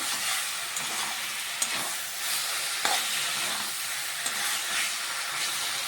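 Red spinach stir-fried with potato and eggplant in a wok makes a loud, continuous sizzle, with a few sharp scrapes and clatters of the spatula and no voices.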